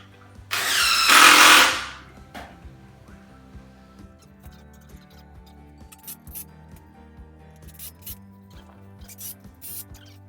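A power driver whirs briefly and loudly as it drives a screw into a wooden joist for a deer blind, followed by faint clicks and rustling of handling the tool and lumber.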